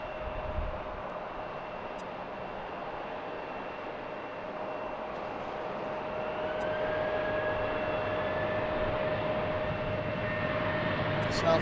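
A Southwest airliner takes off at BWI airport, a steady, broad jet roar that slowly grows louder and holds at a constant rumble.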